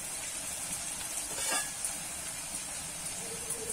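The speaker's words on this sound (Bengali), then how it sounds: "আমি কিন্তু একইভাবে সব ঝুরি আলু ভাজাগুলো ভেজে নেব" Shredded potatoes frying in hot oil, a soft steady sizzle and hiss with a brief swelling burst of bubbling midway, otherwise even and fairly faint.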